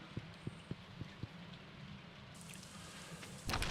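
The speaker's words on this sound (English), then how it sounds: "And it's raining" Rain falling in Stardew Valley: a soft, steady patter of rain under faint periodic plinks and game music, with a louder wash of rain swelling in at the very end.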